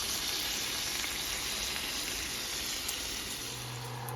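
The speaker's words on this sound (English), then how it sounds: "This is the bacon. I just put it in." Freshly laid bacon strips fry in a pan for French toast breakfast, giving a steady, even crackling sizzle that stays close and loud throughout with no talking.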